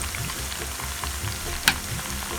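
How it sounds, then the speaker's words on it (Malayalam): Chicken pieces fry uncovered in an open pan until crispy, restaurant style, giving a steady close sizzle with fine crackling and one sharp click near the end. No one speaks. "ഇനി നമ്മളിത് തുറന്ന് വെച്ച് നന്നായിട്ട് ക്രിസ്പി ആവുന്ന വരെ ഫ്രൈ ചെയ്യാം"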